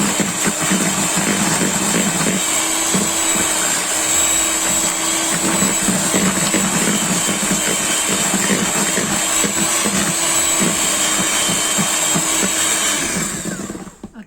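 An electric mixer runs steadily as it beats Mexican bun batter with vanilla essence, a continuous close whirring drone with faint rattling that holds evenly before cutting off abruptly at the end.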